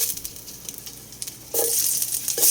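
Ginger dropped into a pan of hot oil while cooking chicken Bisaya, bursting into a loud, close sizzle midway through after a quieter stretch of low frying crackle.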